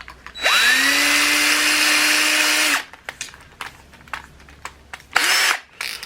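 A power drill held freehand bores into a metal panel, giving one steady, loud high whine for about two seconds. A shorter burst follows after a pause with scattered knocks.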